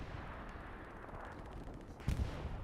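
Artillery fire in the World War II shooter Hell Let Loose, a single deep, muffled boom landing at a distance over a low, steady battlefield rumble.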